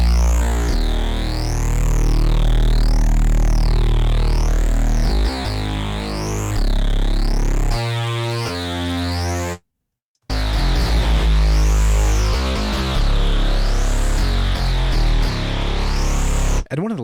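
A Harmless synth in FL Studio plays a buzzy, gritty sustained tone through a distortion effect, its bright upper harmonics wobbling in a slow regular sweep, with a brief drop to silence midway before the sound resumes.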